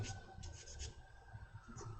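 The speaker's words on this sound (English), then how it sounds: "what I'm going to do is just sand" Steady dry rasping of sanding 2mm foam board for a model SE5a aircraft, continuous rubbing strokes close by with slight rhythmic surges, no voices.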